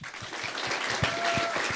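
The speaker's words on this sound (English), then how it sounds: "Can't applaud you all enough" Audience applause at the Tewaaraton Award ceremony, a brief steady patter of clapping from the crowd, close and fairly loud, with no voices over it.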